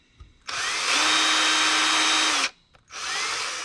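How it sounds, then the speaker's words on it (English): A small rotary drill bores out a fragile turkey wing bone, whining steadily for about two seconds, stopping briefly, then starting up again, close and loud with no talking. "and we'll drill it out like this."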